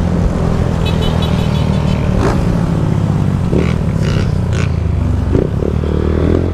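A motorcycle engine drones loud and close throughout, rising in pitch as it revs and dropping with each gear change, several shifts in a row over a steady roaring base.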